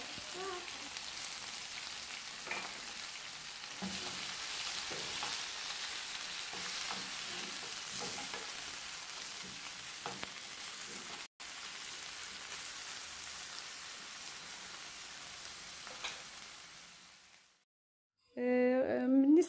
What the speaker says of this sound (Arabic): غادي نضيفو في نفس المقله غادي نضيفو الفلفله